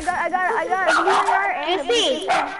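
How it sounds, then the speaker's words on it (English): A dog barks and yips repeatedly in short, close bursts, heard together with a person talking over it. "I'm sorry for my dog. She's barking like crazy right now."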